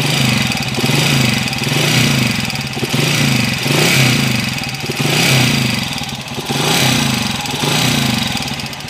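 A Honda TMX 155 motorcycle engine runs rough and noisy before an overhaul, its loud, close steady chug pulsing rhythmically throughout with no talking.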